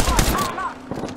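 Gunfire in the battle-royale game Apex Legends rattles loudly in quick bursts through the first half-second and then trails off, with a voice faintly present underneath.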